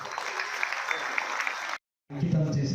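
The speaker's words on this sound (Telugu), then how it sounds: "గట్టిగా చప్పట్లు." An audience claps steadily at a lamp-lighting ceremony for nearly two seconds. After a brief silence, a voice is heard.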